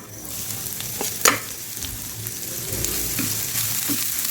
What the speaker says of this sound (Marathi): आता हे वाटण आपण कमी गॅस करून मस्त फ्राय करून घ्यायचं आहे